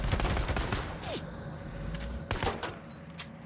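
Machine gun fire in the video game Days Gone, with dense bursts of rapid shots that fade, then a second short burst, heard at mid distance with little talk.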